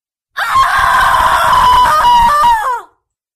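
A demon woman in an audio drama lets out a single loud, sustained scream lasting a few seconds, shrill and wavering with a falling pitch at the end, heard alone.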